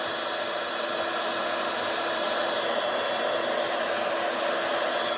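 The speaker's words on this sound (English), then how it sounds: "You just warm up the gun slightly, and I usually heat emboss from the back." A heat embossing gun blows hot air in a steady, even whoosh, a continuous close fan-and-heater hiss that holds without a break and has no talk over it.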